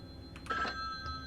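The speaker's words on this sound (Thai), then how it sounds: "โทรศัพท์ดัง" A telephone rings faintly in a Halloween horror video game, a couple of short bell-like trills over low ambient hum with no talking.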